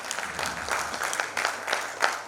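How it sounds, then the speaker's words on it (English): Applause from a conference audience at a digital transformation conclave in Guwahati, Assam, with soft scattered clapping that is fairly quiet and distant, punctuated by a few sharper claps. "A huge round of applause."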